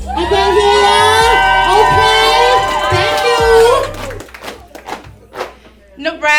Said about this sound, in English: Give this lovely lady a round of applause. Let me hear y'all.